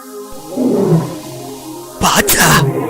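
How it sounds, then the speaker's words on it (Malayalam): A leopard roars in an animated Malayalam comedy cartoon, a loud, raspy roar that rises out of background sound near the end after a spell of voices talking. "എന്താ ഒരു അലർച്ച? പുലി വരുന്നുണ്ടെന്ന് തോന്നുന്നു."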